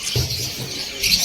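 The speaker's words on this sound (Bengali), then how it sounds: "আজ আপনাদেরকে দেখাবো কত রঙের পাখি রয়েছে এই শপের মধ্যে।" Many colourful birds in a bird shop chirp and call in a quick, overlapping chatter at close range, with no talking.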